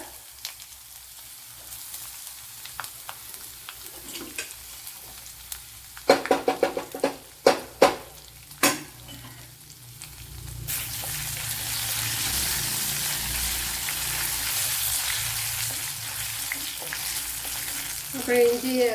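Chopped onion and a bit of ginger go into hot oil in a pan for a jackfruit dish; scattered clatter and taps lead into a loud burst as they hit the oil, then a sustained steady sizzle.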